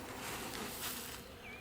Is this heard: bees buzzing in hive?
yes